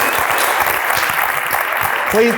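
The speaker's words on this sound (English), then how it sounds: "big round of applause for everyone" Sustained applause from a real estate seminar audience, many people standing and clapping together in a room, dense and steady throughout, with a voice briefly rising near the end.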